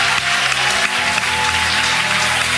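A church congregation claps together in a dense, continuous burst of applause that fills the space from start to finish, loud and steady, with no talking over it.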